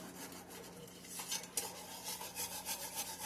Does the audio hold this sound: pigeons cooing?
no